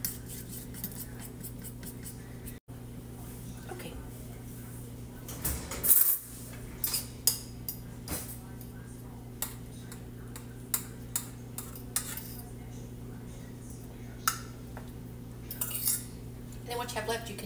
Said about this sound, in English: I'm just going to mix that up and put it over top of these over here.